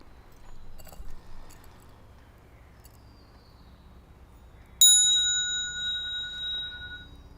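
A single bright Buddhist temple bell strike rings out suddenly and sustains with a clear, shimmering tone, fading slowly over a quiet background with faint earlier clinks.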